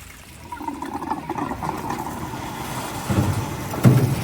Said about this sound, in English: That's going to allow all this side of the water to drain out into this tank and then out into your floor drains.